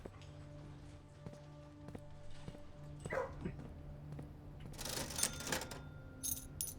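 A dog in the video game Blue Prince gives a few short yips and barks near the end, over a layered background of ticking and tonal music.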